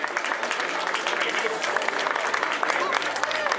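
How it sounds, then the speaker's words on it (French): Audience applause at a cycling time-trial podium ceremony at the Chrono des Nations in Les Herbiers, a steady crowd clapping throughout while an announcer's voice talks over it. "on peut applaudir Fanny Zambon qui termine 3e"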